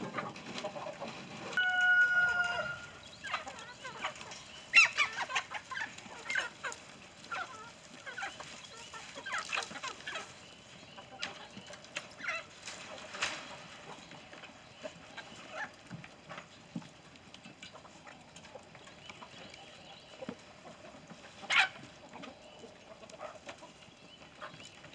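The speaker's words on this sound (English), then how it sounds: "Let's see how these little chickens are doing in here." Chickens and a rooster cluck and call repeatedly on a farm, close and moderately loud, with scattered clucks and a few crowing bursts over quiet background.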